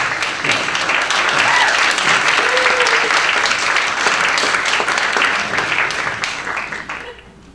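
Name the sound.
audience applause at panel discussion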